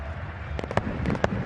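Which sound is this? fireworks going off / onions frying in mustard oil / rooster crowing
fireworks going off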